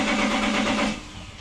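A BMW 730d E38 diesel engine cranks without firing, a loud, steady rhythmic churn of the starter for about a second that then drops away.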